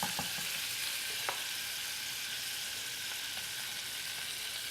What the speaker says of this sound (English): As soon as that butter is all melted, you're going to toss in 2 tablespoons of flour